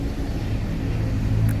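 Idling Hino RK bus engine at a bus station, a steady low diesel rumble held close and unbroken with no talk over it.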